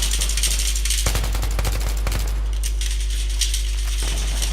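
Rapid automatic gunfire from the video game Battlefield 3 comes in bursts of sharp, rattling shots over a constant low rumble, with no speech.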